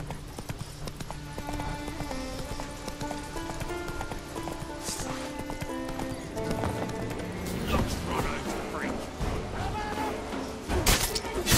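In The Witcher 3, a horse's hooves clip-clop in a quick galloping rhythm, set under a musical score with bursts of other game sounds and some voices.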